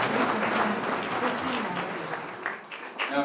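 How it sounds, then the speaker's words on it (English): A sustained round of warm applause from a large hall audience at a Boston event welcoming Mayor Martin J. Walsh, dense, even clapping that continues throughout and tapers slightly near the end. "Warm round of applause."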